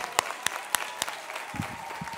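Scattered applause for guitarist and harmonica player Iván at a rock and country show, a few sharp separate claps over a steady crowd hiss, with low murmuring voices entering near the end.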